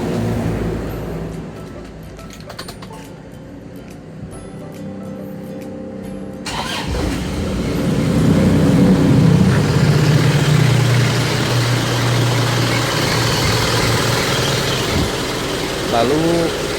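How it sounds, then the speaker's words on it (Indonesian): An Isuzu Panther 2.5 diesel engine cranks and catches after a quiet stretch, then settles into a loud, steady clattering idle that continues to the end. "Kita nyalain lagi mesinnya."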